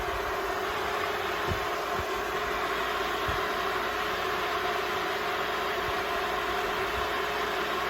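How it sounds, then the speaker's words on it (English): A fan inside a Wolfe Ridge 28C travel trailer blows cold air with a steady, faint whooshing hum and a constant tonal whine, joined by a few soft low thumps, with no talking. "if y'all hear that, that's the fan running, guys. Blowing nice cold air."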